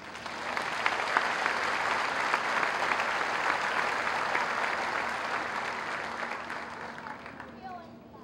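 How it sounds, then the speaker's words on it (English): An audience at a graduation ceremony gives a sustained round of applause for a medal recipient, steady and full before fading out at the end, with a voice faintly under the clapping. "present the salutatorian medallion to Greg, I would ask you to join me in honoring him with another round of applause."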